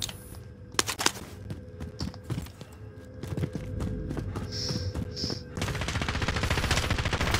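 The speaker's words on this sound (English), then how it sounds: "They're shooting me through a wall!" Gunfire in the video game Call of Duty Warzone: sharp shots and bursts crack out in uneven clusters, close and loud, over a busy layer of game noise.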